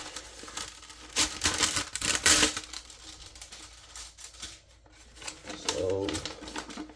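Kershaw Iridium knife slicing open packaging, with bursts of tearing and crinkling cuts close up, some sharp rips in quick succession, while someone talks over parts of it.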